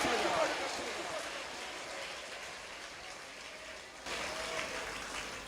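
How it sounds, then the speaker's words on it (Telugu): A church congregation claps hands together at a prayer service, making a dense, steady patter of many hands. The clapping briefly dips and then resumes strongly, with a preacher's voice over it. "చప్పట్లు కొట్టండి"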